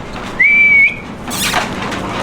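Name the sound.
recall whistle for dog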